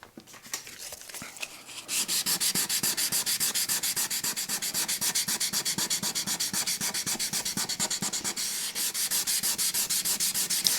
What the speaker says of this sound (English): I'm going to just sand that with very fine sandpaper so that becomes a finished surface